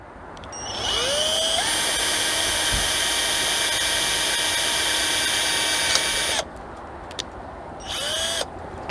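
A power drill spins up and bores a pilot hole in a scrap piece of wood, a loud steady whine for about five seconds, cutting out, then a short second burst; wind noise rumbles underneath.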